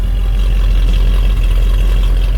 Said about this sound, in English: Stock single exhaust.